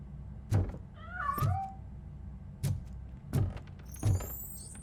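Several short meows from a cat in the video game RoboCop: Rogue City, spaced across the moment with one drawn-out wavering cry, fairly close and clear over a low game ambience.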